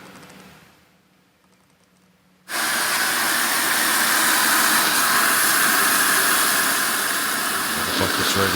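Water gushes from a tap into a car wash bucket, starting abruptly after a quiet pause and then running as a loud, steady hiss and splash to the end.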